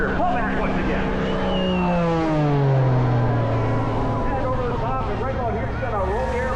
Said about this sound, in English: Gonna roll the airplane and then knock the airplane around.